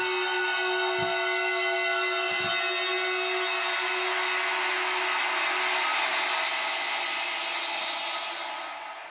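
Wraith scrapes from the PRESAGE boutique horror sound instrument: a sustained, haunting ethereal scraping drone with a steady hum, alone and fairly loud, holding throughout and fading slightly at the end.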